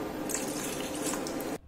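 About one and a half glasses of water pour steadily into a pot set on a stove for making avarampoo herbal tea, a close, continuous splashing stream that stops abruptly near the end.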